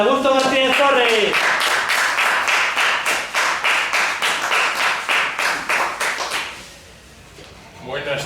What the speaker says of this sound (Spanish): un fuerte aplauso para Augusto Martínez Torres